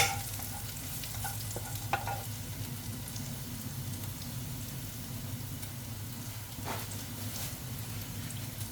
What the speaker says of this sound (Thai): เราก็ใส่กระเทียมสับนะคะลงไปเจียวก่อน ให้ กระเทียมเนี่ยนะคะเหลืองเหลืองหน่อย